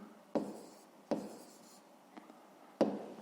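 Numbers are handwritten on paper during a fifth-grade maths exercise, giving a few short, scratchy pen strokes with quiet pauses between them, close and soft.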